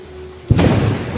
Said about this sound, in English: I generated thunder